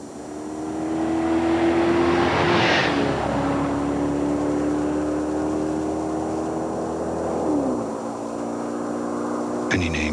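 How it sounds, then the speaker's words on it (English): A performance car with a 4-cam, 32-valve, 250 horsepower V8 engine, its engine note rising in a strong revving pull, then holding a steady drone before easing off near the end. "Imagine for a moment a performance car. One with a 4-cam, 32-valve,"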